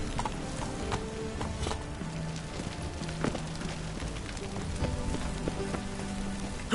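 Roach, a horse in The Witcher 3, gallops with steady, close clip-clop hoofbeats over a constant rain-like patter, with no talk.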